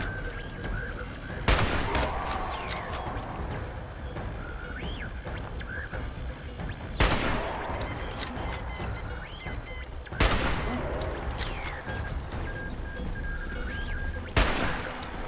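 Gunfire in the video game Fallout 76: sharp, loud shots spaced several seconds apart, each with a brief burst of rattling impact, over a continuous game ambience of bird-like chirps and background hum.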